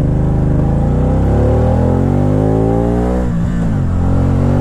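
A 2012 Can-Am Spyder RT-S three-wheeled motorcycle with an aftermarket exhaust accelerates hard, its engine note climbing steadily, dipping briefly at a gear shift, then pulling again, loud and close throughout with no talk.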